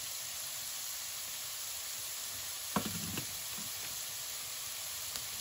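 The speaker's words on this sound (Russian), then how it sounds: "И три лавровых листа. И все обжариваем." Beef with red paprika, cumin and bay leaves frying in a pan gives a steady, even sizzle, with a few brief stirring clatters partway through and no talk.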